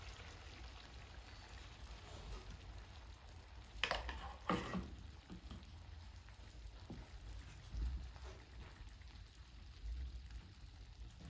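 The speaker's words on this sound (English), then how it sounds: "we're just gonna let our egg and our vegetables cook for about 2 to 3 minutes in that olive oil and that butter" Egg and vegetables sizzle softly in olive oil and butter in a pan for steak and vegetable burritos, a faint steady crackle with a couple of brief louder clatters of utensil against the pan partway through.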